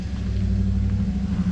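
Yamaha G29 golf cart with a 6-inch spindle lift kit and 23x10 mud tires, driving with a steady low motor rumble and hum, close and continuous throughout.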